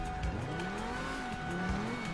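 A fast car in GTA 5 with its engine revving continuously and tires squealing in sliding, wavering tones, loud and sustained with no pauses.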